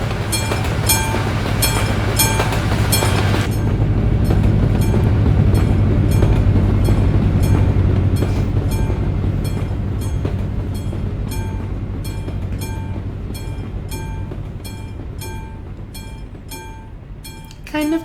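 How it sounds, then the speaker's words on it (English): A train passes a rail crossing in Euro Truck Simulator 2, its loud rumbling rolling past up close while a crossing bell dings in a steady rhythm throughout, the rumble fading as the short train clears. "Kind of a short train."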